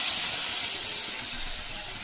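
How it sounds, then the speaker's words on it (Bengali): Water poured into a hot pan of cooking fish curry with cumin and coriander hisses and sizzles loudly up close in a continuous steamy rush that eases slightly toward the end, with no talking. "জল দিয়ে দিলাম।"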